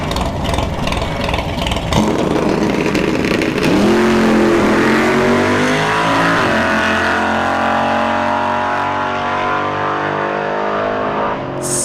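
A 3rd gen Camaro launches on a drag strip during test-and-tune at ShowTime Dragstrip, its loud engine roaring and climbing steadily through the gears in a sustained run with rising pitch.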